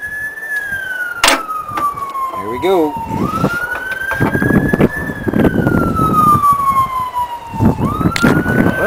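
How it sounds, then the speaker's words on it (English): Sirens wail up and down nearby, repeatedly sweeping in pitch, mixed with traffic rumble and a brief spoken remark. "Heard a bunch of sirens, and a helicopter landed just over there."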